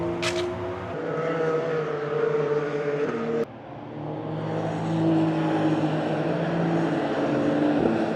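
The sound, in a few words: Porsche cars driving on race track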